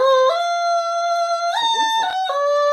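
A musical automaton plays a reedy, nasal tone with rich harmonics, holding notes and stepping between pitches in a short, wavering melodic phrase, clear and close.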